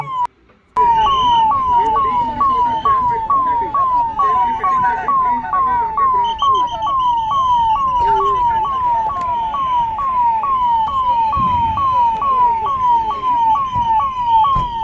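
A loud, close ambulance siren wails continuously in a fast repeating up-and-down pattern, with a dog howling faintly beneath it.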